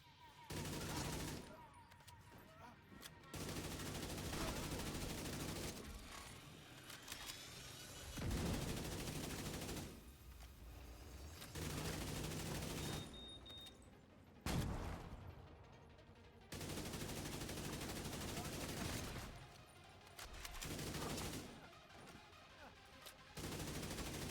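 AK rifle fire in The Division 2 video game comes in long sustained bursts separated by short pauses, loud and dense over about twenty seconds of combat.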